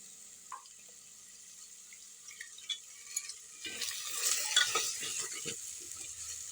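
Vegetables for vegetable kurma sizzle in a hot pan, quiet at first, then a louder hiss with stirring and scraping taking over midway.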